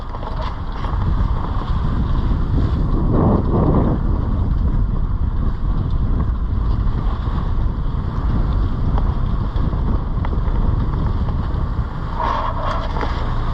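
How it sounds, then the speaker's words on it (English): A sailboat's engine hums steadily at low revs while motor sailing, beneath strong wind buffeting the microphone, with water wash around it. "I'm motor sailing, but the engine is at a much lower revs than it used to be"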